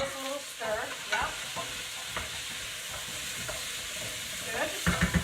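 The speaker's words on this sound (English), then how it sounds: "let me just give this a little stir" A spoon stirs vegetables in a pot of Italian bean minestrone, with scraping clatters over a steady sizzle of frying, close and fairly loud, ending with a few sharper knocks.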